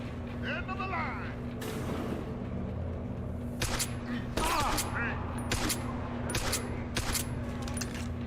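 Bursts of gunfire ring out in the video game Deus Ex: Human Revolution, with several sharp shots and volleys spread over a steady low hum, while someone talks over them.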